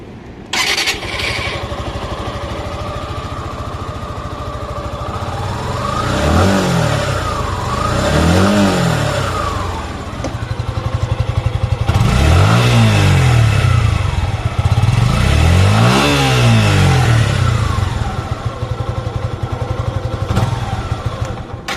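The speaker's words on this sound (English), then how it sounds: "let me make you hear the exhaust note of the Suzuki Gixxer 150." Suzuki Gixxer 150 fully-faired 150cc motorcycle starting and idling, then revved in several distinct blips that climb and fall, with a mellow, soft exhaust note recorded close to the pipe.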